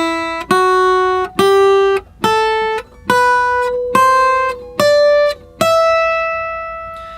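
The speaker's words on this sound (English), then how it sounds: "this time around it's going to sound like this." A minor scale picked on guitar, eight single notes sounded one after another at an even, steady pace, each ringing clearly before the next, with the last note left to sustain and fade.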